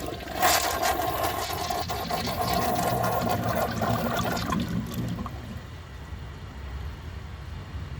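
A defective 1996 Crane Hymont toilet flushes with a loud rush of water that churns steadily for about five seconds, then fades into a softer trickle as the bowl refills.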